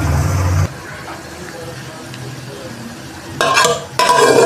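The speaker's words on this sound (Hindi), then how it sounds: "ये प्याज फ्राई हो चुके हैं" Onions fry to golden in a pan with a steady sizzle, then close, loud bursts of stirring and scraping come near the end.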